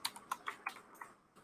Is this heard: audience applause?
no